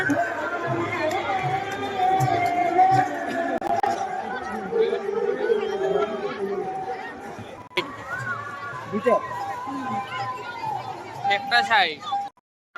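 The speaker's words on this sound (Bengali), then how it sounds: "অনেক ভিড় আজকে" A crowd chatters at a busy forest festival, a steady babble of many voices nearby, with someone talking over it near the end.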